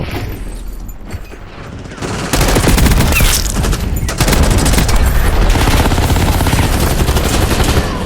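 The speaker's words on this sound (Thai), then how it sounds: "ยิงไปเปลี่ยนลูกไป" Sustained automatic gunfire rattles loud and close in the Call of Duty Black Ops 6 Warzone battle royale, a burst pouring out continuously after a quieter lead-in with faint mechanical handling, likely a reload, and no talk.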